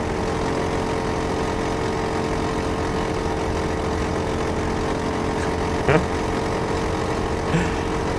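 Racing kart engines in the sim game Automobilista 2, a steady, droning engine hum that holds constant throughout, with a faint brief tonal sweep near the end.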